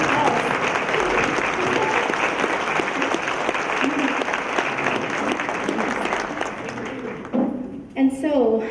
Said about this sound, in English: Please stand up so we can give all of you guys a round of applause